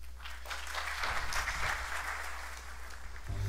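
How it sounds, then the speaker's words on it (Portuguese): A crowd at the Square Enix E3 2015 conference claps continuously, the applause swelling then tapering with a reverberant, echoing quality as in a large hall. "Nossa, as palmas estão refletindo."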